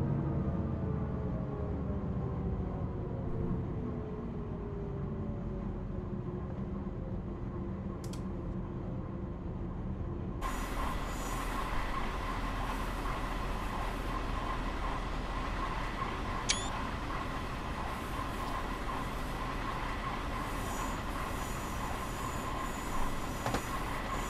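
A BR 612 tilting diesel railcar in Train Simulator Classic runs the RE30 Pegnitztalbahn service from Nürnberg to Bayreuth, giving a steady, continuous rumble of engine and rolling wheels, with a sharper shift in tone partway through and brief high squeals.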